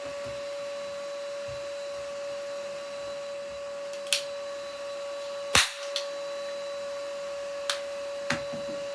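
A toy cowboy cap gun fires, giving a few sharp, snappy cracks spaced seconds apart over a steady background hum.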